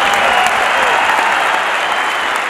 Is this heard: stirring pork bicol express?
no